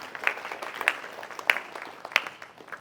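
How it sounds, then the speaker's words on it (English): A few scattered hand claps ring out at a scholarship awards symposium, four separate claps spaced roughly evenly apart rather than full applause, over a faint room background. "clap for her"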